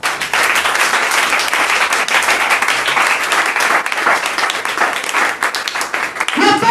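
A church congregation applauding and cheering in praise of Jesus, dense sustained clapping from a large crowd with voices mixed in, loud and continuous throughout.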